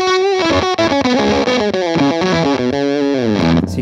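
Electric guitar played through an Octa-Tron octave effect with high gain and the sag control engaged, notes sounding squeezed and compressed in a dense, distorted, continuous phrase, loud and close with no talking.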